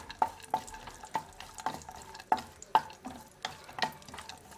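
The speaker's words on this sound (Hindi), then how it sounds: "जो ड्राई फ्रूट्स हैं उन्हें हम थोड़ा सा रोस्ट कर लेंगे" Dry fruits and plump raisins roasting in melted ghee for moong dal halwa, stirred with a spoon that scrapes and clinks against the pan in a steady, irregular rhythm over a faint sizzle, close by and alone.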